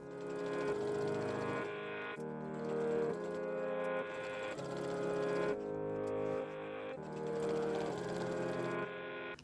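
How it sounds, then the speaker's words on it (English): A sewing machine stitching an elastic waistband into a loop runs in steady bursts of whirring with short pauses between runs, close and continuous with no talking. "I sew it into a loop and mark the quarter points."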